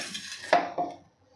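A mixer grinder jar being picked up and set down in a kitchen, two quick close hard knocks followed by a brief ringing fade into near silence.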